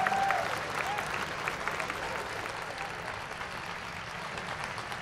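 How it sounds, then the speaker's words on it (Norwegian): Audience applause at a stage hypnosis show, a burst of clapping that starts loud and gradually thins out, with a faint whistle near the start. "Publikum, en stor applaus til kineseren vår,"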